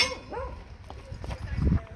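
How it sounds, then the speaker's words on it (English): A dog named Bear barks a few times at people walking by, heard at a moderate distance from beside an old 1966 Chevy van, with some faint voices and scuffling in the background. "we got Bear barking at some people walking by"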